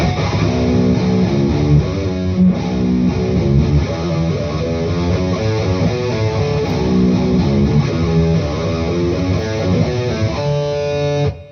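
A distorted electric guitar, an 8-string tuned to drop E, plays the first half of an old thrash riff at a slow, steady pace, notes ringing continuously and loud until it stops abruptly at the end.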